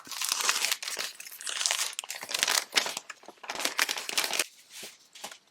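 Plastic packaging on a sheet of card-making embellishments crinkles and crackles as it is pulled open, a close, continuous stretch of crumpling with brief tearing bursts and no talk.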